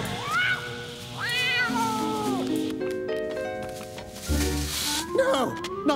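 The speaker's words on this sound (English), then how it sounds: "scared by a little kitty cat?" Cat in a cartoon about a vampire girl meowing in drawn-out, rising and falling yowls near the start and again at the end, between which a musical score plays, loud and close.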